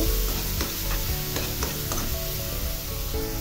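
Garlic paste fries with onions in a pan for a fish bhuna, a constant loud sizzle broken by rhythmic scraping strokes of a stirring spoon.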